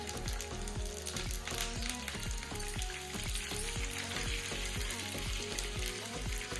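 Cumin and curry leaves sizzle in hot oil for a dhokla tempering, a dense continuous crackle close by with a faint repeating clicking underneath.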